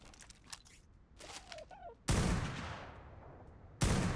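Gunfire in an ARK online PvP raid, two loud sharp sniper blasts roughly two seconds apart, each ringing out with a long decaying echo, after quieter rustling and clicks.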